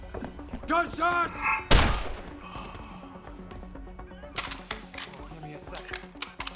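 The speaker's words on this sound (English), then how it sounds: "Gunshots!" Gunfire erupts in the video game Deus Ex: Human Revolution, one loud sharp shot followed by a burst of rapid cracks, with a voice and game sounds around them.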